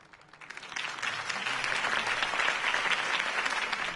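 Applause from a large crowd in the video game Batman: The Telltale Series swells up quickly and holds steady as a dense, continuous wash of clapping.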